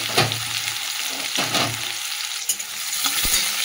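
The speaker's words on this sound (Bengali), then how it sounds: "পেঁয়াজটা লাল করে দিয়ে ভেজে নেব।" Onions fry in hot oil with a steady loud sizzle, broken by a few scraping stirs of a spatula in the pan, with no voices.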